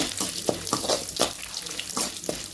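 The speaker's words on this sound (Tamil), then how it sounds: "அடுத்து மிளகாய் போட்டுக்கலாம் வரமிளகாய்" Dried red chillies fry in a pan for a Kongu-style mint chutney, a continuous sizzle with rhythmic stirring scrapes every half second or so, close and fairly loud.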